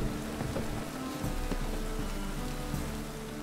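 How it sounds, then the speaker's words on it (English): Steady rain pours in The Witcher 3 video game, a dense, even hiss of falling drops that fills the whole stretch with no voices over it. "It's raining again."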